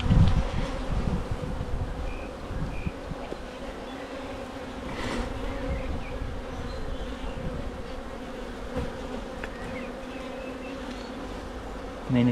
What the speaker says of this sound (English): given there are lots of flying bees out as well